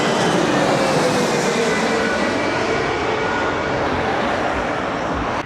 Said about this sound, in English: Next aircraft coming from Geneva